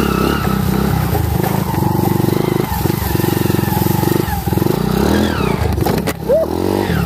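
A modified motocross motorcycle engine revs continuously in rice fields, loud and close with a steady buzzing drone that rises and falls, with brief clatter and someone talking over it.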